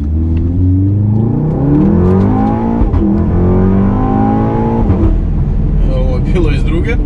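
A warmed-up Volkswagen Golf 7 R hot hatch accelerates hard while driving, its engine note sweeping up through the gears in rising revving pulls with a shift break near the middle, loud and close inside the car.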